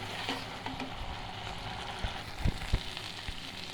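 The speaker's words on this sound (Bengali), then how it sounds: "রসুন বাটা, আদা বাটা এগুলো ভালো করে লাল লাল করে একটু ভেজে নিব" Garlic and ginger paste frying in hot oil, a quiet continuous sizzle with a few soft stirring knocks and scrapes near the end.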